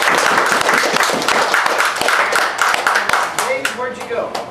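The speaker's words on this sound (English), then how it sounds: "I want to give them a round of applause for their service to our country." An audience at a ceremony honoring veterans at The Bunker in Moss Point, Mississippi, claps steadily and loudly for several seconds, with voices mixed in and the applause thinning toward the end.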